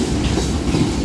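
A Union Pacific manifest freight train of gondolas and autoracks rolls past close and loud, a dense rumbling roar with rhythmic wheel clatter on the rails.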